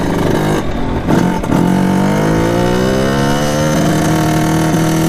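A Kawasaki KX 80 dirt bike with a 110cc big bore kit revs loud and close, its buzzy two-stroke engine note dipping and then climbing steadily to a high, sustained whine.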